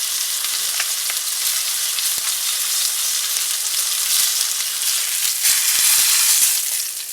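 Steak and garlic fry in a cast iron skillet with a loud, steady sizzle, broken by a few sharp ticks and pops, and no voices.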